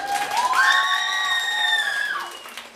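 An audience at a charity concert cheers and whoops, a long rising-then-falling shrill whistle-like shout carrying over a bed of crowd noise and scattered clapping.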